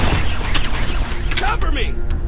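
Heavy gunfire in the game Halo CE on Legendary, a loud dense burst of shots and booms with a voice shouting over it.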